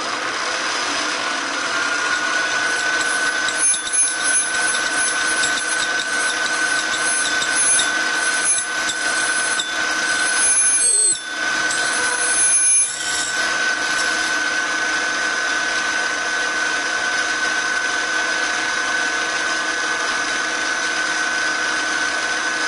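A milling machine drills a series of holes in a workpiece set on a rotary table divider, keeping up a loud, constant motor whine and cutting drone with brief dips as the spindle is worked, and no talking.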